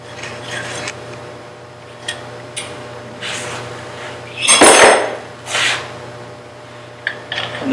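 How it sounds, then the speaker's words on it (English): Metal clinks and knocks as a bowl gouge is handled and slid into a wood-turning tool handle, several sharp isolated taps with a longer scraping rattle in the middle, close by. "Bring out my handle, which I will insert that tool in"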